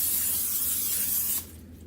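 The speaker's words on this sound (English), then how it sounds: "First you'll start off and spray the crock pot with the cooking spray." Cooking spray hisses from an aerosol can into a crock pot in a kitchen, one steady close burst lasting over a second before it cuts off, leaving quiet room tone.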